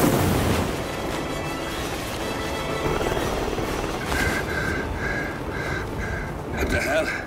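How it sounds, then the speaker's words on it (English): A helicopter in the video game Hitman 3 lifts off, its rotor roar rumbling steadily under a voice and a chirping, pulsing tone. "Alexa Carlisle's helicopter just took off."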